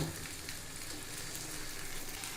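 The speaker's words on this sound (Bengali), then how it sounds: "আমি যেহেতু এটা ফার্মের ডিম তাই আমি একটু উল্টিয়ে নিচ্ছি এবার এই পাশটাও আমি তিরিশ সেকেন্ড সময় ভেজে নিব" A farm egg fries on its second side after flipping, giving a faint, even crackling sizzle that stays steady throughout the short stretch, with no voices.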